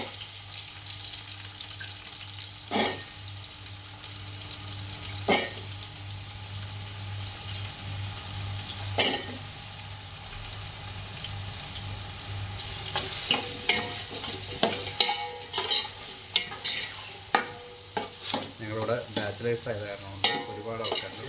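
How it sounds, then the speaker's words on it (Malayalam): Chopped onion hitting hot oil with frying ginger in a pan for a roasted-coconut mackerel curry, a steady close sizzle broken by several sharp scrapes and stirs that grow busier toward the end. "അപ്പോൾ ഇഞ്ചി നന്നായിട്ടൊന്ന് മൂത്തിട്ടുണ്ട് അപ്പോൾ നമുക്കിവിടെ നമ്മൾ മാറ്റി വെച്ചിട്ടുള്ള ഉള്ളി നമുക്കിട്ട് കൊടുക്കാം"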